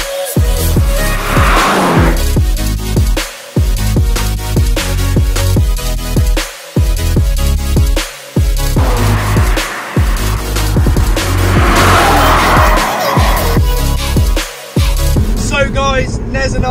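A BMW Z4's three-litre engine revs hard, loud and close, with a raspy, throaty tone and repeated surges and brief drops between gear changes.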